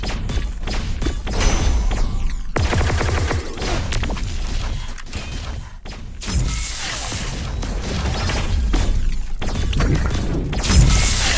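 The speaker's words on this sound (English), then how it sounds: "Explosion." Explosions and combat effects from Heroes Strike, a 3v3 MOBA brawl shooter game, come as dense, loud, continuous bursts, crashes and booms with no pauses, peaking again near the end.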